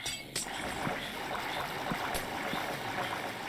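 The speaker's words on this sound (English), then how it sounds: "I despise this new water noise effects that they added from Java." Flowing water ambience from Minecraft, a newer water sound effect carried over from the Java edition, plays as an even, hissing rush with a few faint knocks, heard alone.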